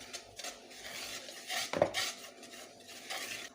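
Cake batter ingredients stirred together in a bowl, with a spoon scraping and clinking against the sides in uneven, close strokes and no voices.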